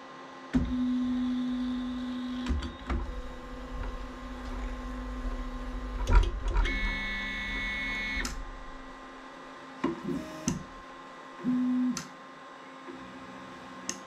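An Artillery SideWinder X2 3D printer starts printing a cube, with a steady electrical hum, short whirring stepper-motor tones and scattered ticks and clicks, all fairly quiet and close.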